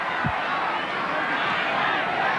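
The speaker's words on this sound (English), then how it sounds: "And now the crowd come alive." A rugby league crowd at a 1998 NRL match between Newcastle and Canberra roars in a steady, broad wash of cheering and shouting throughout.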